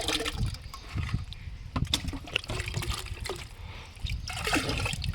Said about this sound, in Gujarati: આપણે જે આ બટેકાવાળું પાણી છે એ મિક્સ કરવાનું